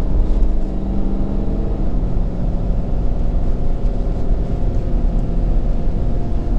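A 2017 Ford F-350 Super Duty Platinum with the 6.7L Power Stroke diesel pulls hard under acceleration, a steady loud low rumble heard from inside the cab with no talk.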